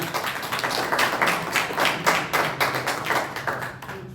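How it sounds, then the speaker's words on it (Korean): Attendees at a monthly meeting of a Christian church association applaud in thanks, with brisk, crowded hand-clapping close by that runs for several seconds before tapering off. "이렇게 많은 것들을 제공해 주신 모든 분들께 우리 감사의 박수 한번 올려드리겠습니다."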